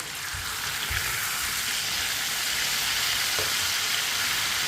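Fish fries in a pan with a steady loud sizzle, joined by a few soft scraping knocks as two spoons turn the pieces over; no one talks.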